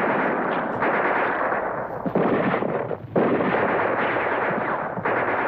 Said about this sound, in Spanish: ¡Dese prisa con el mortero!